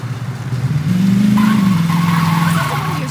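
A police car in the video game Saints Row 2 drives with a close, rising engine note that revs up, holds, then eases slightly over a few seconds, with faint tire noise.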